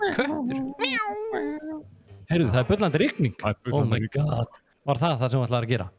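A cat meows several times, rising and falling, mixed in with a person talking during a gaming night racing session.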